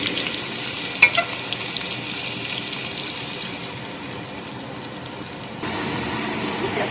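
Garlic and ginger with curry leaves frying in a pan over medium heat for a Punjabi masala fish curry, giving a steady close hiss and crackle with a brief clink near the start and a slight rise late on.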